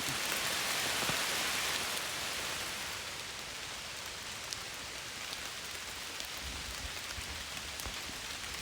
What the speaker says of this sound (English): the rain was coming down